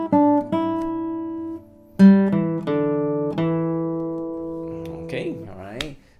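Classical guitar plays two bars of a grade 1 exam piece, a short sequence of plucked notes with ringing sustained tones, a pause, then more picked notes, close and clear with no talking.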